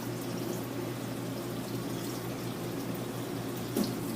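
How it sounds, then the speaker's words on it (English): Fresh farm strawberries rinsed under a running kitchen tap, a steady low rush of flowing water with a brief splash near the end. "Wash them, rinse them off good."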